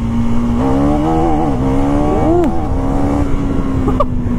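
A KTM Duke 390 Gen 3 motorcycle accelerates hard in second gear, its engine note climbing and dipping through revs, loud and close throughout with steady wind and road noise underneath.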